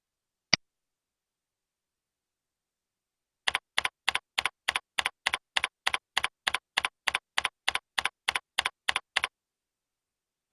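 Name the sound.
typing on a computer keyboard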